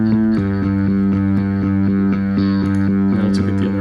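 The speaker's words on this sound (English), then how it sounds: "there's distortion set on the rip setting or RIP setting" A bass guitar played through a distortion effect on its RIP setting plucks a steady run of repeated low notes, gritty and sustained, with no other sounds.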